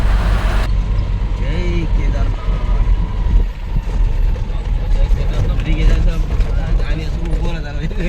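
A truck drives along a road early on a rainy morning, its deep steady engine and road rumble filling the cab while a voice talks over it.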